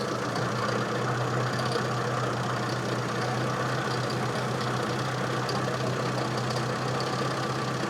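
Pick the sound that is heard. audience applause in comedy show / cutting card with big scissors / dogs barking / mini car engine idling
mini car engine idling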